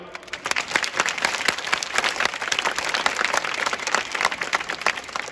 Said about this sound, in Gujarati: બેનો બધા તાળી પાડો છો